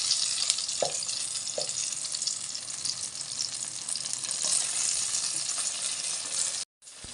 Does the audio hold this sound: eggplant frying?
yes